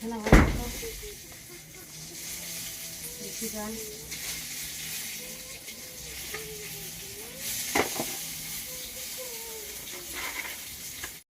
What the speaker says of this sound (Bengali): মাংস রান্নাটা ভাজছি